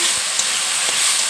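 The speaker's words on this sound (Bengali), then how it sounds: "একটু আলু ভাজা হয়ে যাবে।" Potatoes frying in a pan at home, a steady close sizzling hiss throughout with faint stirring clicks, no talking.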